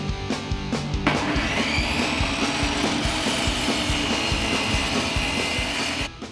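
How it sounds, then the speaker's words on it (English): Plywood edges being sanded by hand, a continuous rasping scrape with rhythmic strokes close up, steady throughout and ending with a couple of sharp knocks. "I sanded down the edges so that I had a flat surface to attach the frame to."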